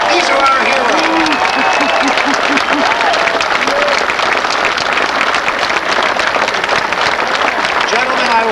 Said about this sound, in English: Ladies and gentlemen, give them a round of applause.